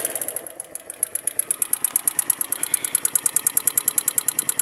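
A Keeway CR152 motorcycle with a knocking noise cranks and starts, then settles into a fast, steady, evenly pulsing idle heard up close with no talking.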